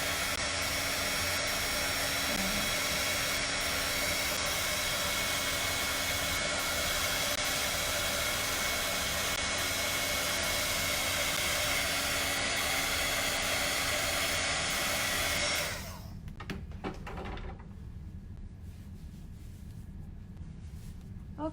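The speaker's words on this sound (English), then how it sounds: "bear the noise of the hot tool" Continuous loud whooshing hiss of a heat embossing tool blowing hot air close up, steady for about fifteen seconds, then dropping to a quieter hum.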